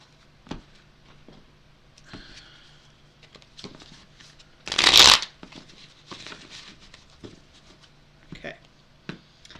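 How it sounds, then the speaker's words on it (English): Tarot cards are shuffled and cut: scattered soft taps and riffles, then one loud burst of rapid card shuffling mid-clip, heard up close amid quiet handling noise and occasional speech. "We're going to give them each another shuffle and cut."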